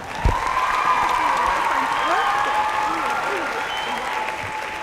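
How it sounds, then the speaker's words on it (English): A conference crowd gives sustained applause after a speech, steady clapping with a few cheers mixed in and voices faintly audible underneath. "Can we get another round of applause, please?"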